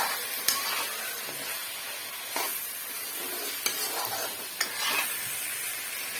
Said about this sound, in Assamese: এইখিনি মই এতিয়া গোটেইখিনি মিহল কৰি দিম, দি পেলাই মই অকণমান আকৌ ভাজিম।